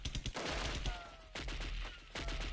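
Bursts of rapid gunfire in the shooter game Delta Force, with three clustered volleys separated by short gaps, loud and close.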